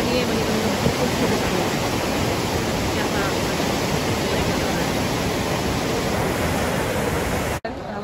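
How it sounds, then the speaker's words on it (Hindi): Hot spring water at Manikaran rushes and gushes steadily, a loud, dense broadband roar like a torrent filling the whole scene close by, with a brief dropout near the end. "पानी, गर्म पानी है मणिकरण में"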